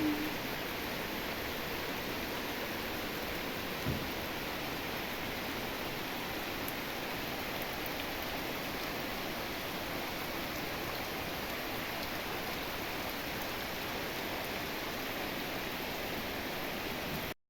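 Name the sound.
rain falling outdoors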